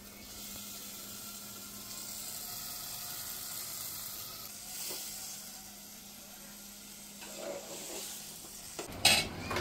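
Meat going into a pan of fried turmeric, chili and spices, heard as a low sizzle with stirring and scraping of a utensil against the pot, quiet and close, ending in a few sharp metallic clinks.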